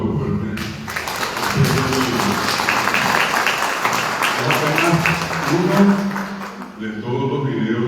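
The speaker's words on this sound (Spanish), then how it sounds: "Un aplauso fuerte." Sustained applause from a crowd, dense and steady for several seconds, with some voices mixed in beneath the clapping.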